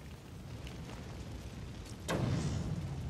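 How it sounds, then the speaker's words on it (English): The Wayne Crest blowing up in Batman: Arkham Origins, a sudden muffled boom over a steady background rumble, followed by a sustained roar that lingers at the same level. "Well, it just looks like it's prime for exploding."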